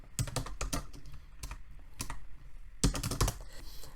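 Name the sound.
typing a name on a computer keyboard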